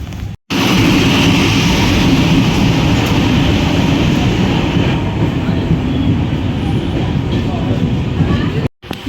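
A train moves through a railway station with a loud, continuous rumble and rolling wheel noise close by, filling the whole stretch with a brief break near each end.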